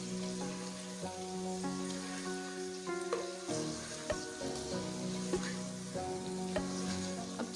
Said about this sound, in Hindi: अब चिकन का कलर चेंज होने तक हम इसको फ्राई करेंगे अच्छी तरह ताकि चिकन का कलर चेंज हो जाए